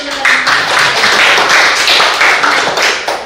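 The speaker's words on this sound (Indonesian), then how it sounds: "Tepuk tangan dulu." A classroom of students bursts into loud, close applause, many hands clapping in a busy, slightly uneven patter that carries on for a few seconds.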